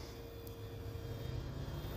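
An FMS P-47 Razorback RC model warbird with a silver paint job, 1500mm span, flies at about half throttle with gear up, giving a steady continuous engine drone throughout at moderate, somewhat distant level.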